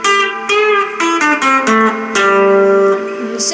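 A guitar plays a short melodic riff from the opening of the final section of a song, clear single notes and double-stops picked close and solo over about three seconds.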